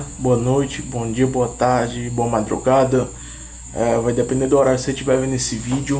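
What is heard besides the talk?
cricket chirping at night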